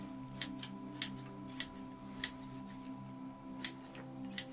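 Pruning scissors snipping the roots of a Korean hornbeam bonsai, sharp close clicks spaced irregularly about once a second over a steady low hum.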